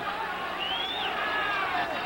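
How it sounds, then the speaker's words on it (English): A boisterous boxing crowd with many fans standing fills the arena with a steady, loud roar of cheering and babble, along with whistles rising and falling above it. "The crowd is in a boisterous state."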